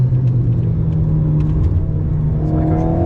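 An Alpine car accelerates on a race track, its engine a loud, close, steady drone that climbs in pitch toward the end.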